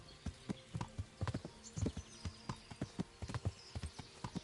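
Horse hooves clip-clop at a steady riding gait in the video game Kingdom Come: Deliverance, with close, distinct hoofbeats repeating throughout, alone with no talk.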